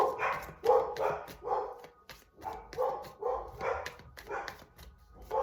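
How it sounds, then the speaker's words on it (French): Several dogs bark in a rapid, uneven run of sharp woofs and yips, fairly close and loud, with no talk over them. "Ça a réveillé mes chiens."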